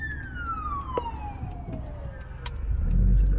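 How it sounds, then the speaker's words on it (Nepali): An ambulance siren wails in a long falling sweep as the vehicle passes nearby on a street, fairly loud over traffic noise, with a low rumble building near the end. "एम्बुलेन्सहरू आइहाल्यो होइन"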